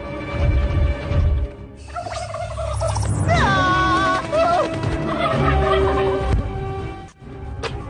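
A cartoon rooster clucks and squawks in an animated adventure film, warbling bird calls over a busy music and effects bed, loud and close for several seconds.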